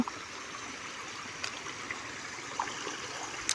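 Steady rushing water flows continuously across a road through rice fields, a broad even wash of sound with a few faint clicks, no voices.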